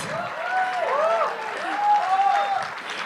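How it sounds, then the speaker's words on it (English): Audience applause at a literature festival session, a steady wash of clapping from the crowd lasting a few seconds, with some voices and music-like tones mixed in. "Let's give Shashi Tharoor one more round of applause."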